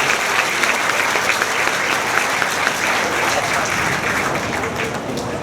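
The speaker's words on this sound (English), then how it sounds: "let's give all those a round of applause" A crowd gives loud, sustained applause for Westfair Hall of Fame inductees at the Westfair queen coronation, a thick, even wash of many hands clapping without a break.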